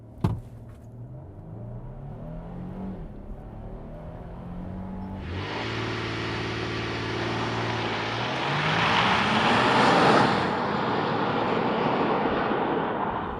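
Twin-turbo V8 in a 2025 Nissan Armada idling, then launched hard: a low rumble gives way to a loud rising engine roar that climbs steadily through the gears, heard from inside the cabin with no talk.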